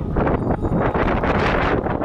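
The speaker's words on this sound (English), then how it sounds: "Whoa, the wind is so windy." Strong wind buffets the microphone in loud, continuous gusts, roaring and rumbling without pause.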